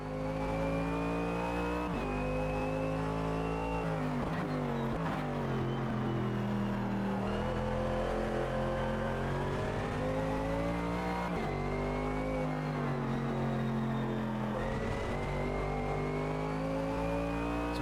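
A race car in the Automobilista 2 racing game, its engine droning loud and continuous as revs climb and fall through gear changes across a long lap, with no voices.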